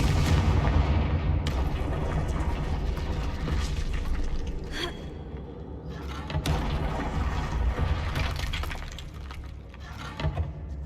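A Confringo fire spell blasts in the Hogwarts Legacy video game, giving loud crashing, breaking impacts with shattering bursts over a dense, continuous rumbling battle din that stays strong throughout.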